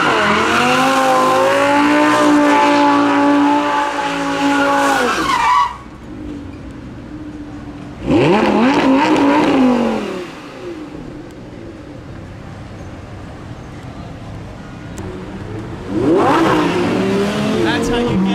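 A Lamborghini Huracan Performante Spyder engine revs loud and high in long sustained bursts while the car drifts, separated by quieter lulls, with possible tire squeal and nearby voices.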